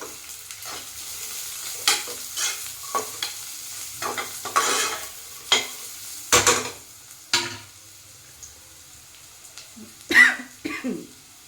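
Cashews frying in ghee for ghee rice make a faint, steady sizzle, broken by stirring scrapes and a few nearby coughs and throat clearings.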